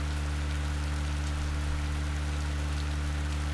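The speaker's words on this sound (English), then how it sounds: "Man, it sure is rainy." Steady rain pours down in the video game Raw Danger, a constant dense hiss over a low, continuous hum, with no talking.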